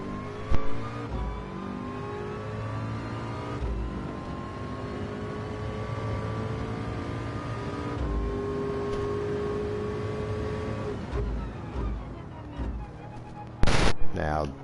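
A race car engine revs and holds a high, steady whine through gear changes in a Group 3 daily race in a racing video game. A sharp loud burst comes near the end, and someone talks over the engine.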